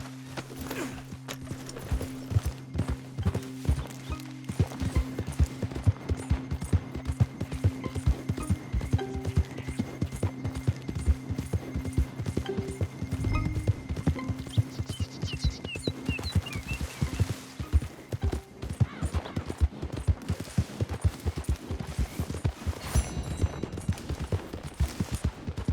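Galloping horse hooves in the Red Dead Redemption 2 game, a steady rapid clip-clop running almost the whole time alongside a low droning hum, with brief sharp cracks resembling gunfire mixed in.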